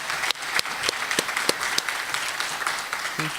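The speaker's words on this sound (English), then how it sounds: "let's give Jeff a round of applause." Modest applause from a small audience after a founder's talk at a startup event, scattered individual claps standing out over a light patter, with a voice starting at the very end.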